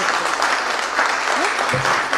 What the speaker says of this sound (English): Let's have a round of applause for Abby